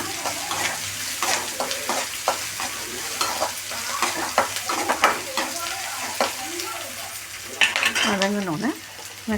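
Onions, green chilies and curry leaves sauté in a pan with a continuous sizzle, broken by repeated scraping and clinking of a spatula stirring against metal, close and busy throughout.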